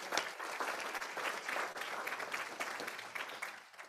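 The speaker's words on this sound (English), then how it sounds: "so big round of applause." Sustained audience applause follows a talk at an agricultural conference, a steady wash of clapping from a moderately sized crowd that fades slightly at the end.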